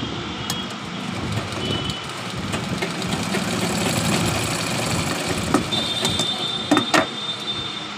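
Sewing machine joining the shoulder seam of a simple kurti, a close mechanical whirring and clatter with uneven rhythm and a few sharp clicks, steady throughout with no talking.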